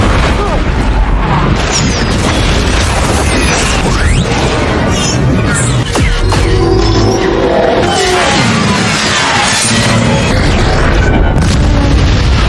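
Loud booming blasts and crashing debris roll through a chaotic, dense din, with voices mixed in beneath the roar.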